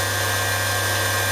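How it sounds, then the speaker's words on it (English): A Mikini 1610L CNC spindle runs at about 6,000 rpm, giving a smooth, steady hum with a faint high whine, close and unbroken. "Spindle's nice and quiet, sounds really good."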